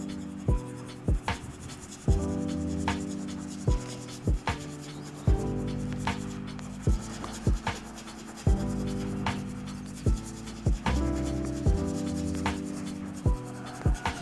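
Soft, steady rubbing of graphite across paper, repeated strokes at an even rhythm, close and quiet, with faint taps between passes.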